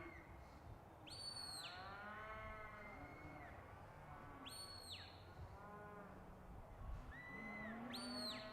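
Cattle in an indoor arena at a national finals competition give repeated loud moos and bleating calls, several overlapping animals with a steady crowd murmur and faint talk underneath.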